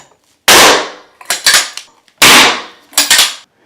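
A powder-actuated nail gun fires twice in a basement, driving 3.5-inch nails through a 2x4 into concrete. Each sharp, loud bang is followed by rattling clatter about a second later.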